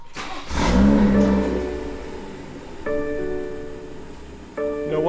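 A BMW B58 engine cranks and catches, surging to a loud rev before settling to idle, while a couple of electronic tones chime in the background.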